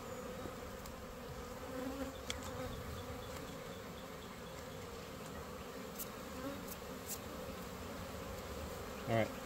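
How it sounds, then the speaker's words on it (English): Angry honey bees buzz in a dense, continuous swarm drone during a honey harvest, steady and fairly close throughout, with occasional faint handling noises. "Got a lot of pissed off bees for sure."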